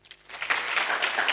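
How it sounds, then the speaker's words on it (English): A crowd at an innovation competition breakout session applauds the first place team, a short burst of clapping that swells after a few scattered claps and holds steady, with no talking over it. "Can we clap for them?"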